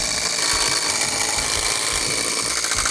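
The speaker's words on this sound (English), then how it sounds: "let's get the holes drilled" A power drill bores holes into concrete for a deck ledger, giving a steady, loud grinding whir with rough low-end chatter that runs without a break.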